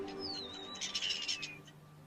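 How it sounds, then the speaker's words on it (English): Birds calling at a winter starling roost on the Silver Jubilee Bridge over the River Mersey, a faint descending whistle followed by a brief cluster of chirps and tweets against quiet background noise. "On winter evenings, the starlings gather in spectacular roosts."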